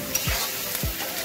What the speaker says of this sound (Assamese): আদা নহৰু প্লাছ পিঁয়াজ গোটেইখিনি বঢ়িয়াকৈ ভাজি ল'ম